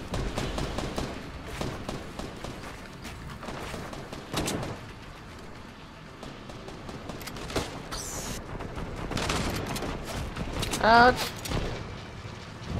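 Scattered gunshots ring out in Fortnite Battle Royale on Xbox One as the player is hit, sharp cracks and bursts spread across busy game sounds, with a player's voice exclaiming in pain and talking.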